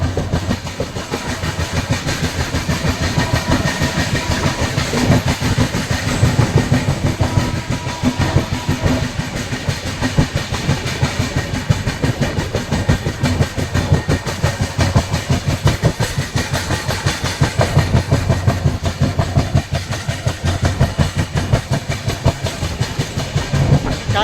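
Kochuveli Express running from Bhavnagar toward Ahmedabad near Sabarmati, with steady rhythmic clickety-clack of wheels over rail joints and a continuous loud rumble throughout.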